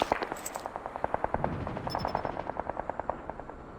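Rapid machine-gun fire from a stealth chopper in the mobile shooter Call of Duty Mobile, a steady rattling stream of shots over a droning rotor-like hum, moderately faint.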